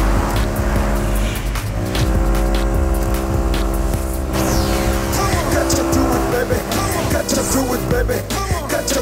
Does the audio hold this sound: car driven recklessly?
yes